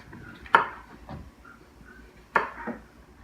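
A knife slicing through zucchini on a cutting board, two distinct chopping knocks about two seconds apart with small follow-up taps, close and clear in a quiet kitchen.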